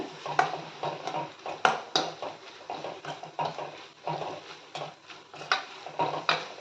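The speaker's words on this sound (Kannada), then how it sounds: "ನಾನು ಎಲ್ಲ ಸ್ಪೈಸಸ್ನು ಒಟ್ಟಿಗೆ ಆ್ಯಡ್ ಮಾಡ್ತಾ ಇದ್ದೀನಿ" Repeated light scraping and clinking of a spoon against a pan as spices go in together while cooking palak dal, in a rhythmic run of soft strokes with faint sizzling beneath, no talk.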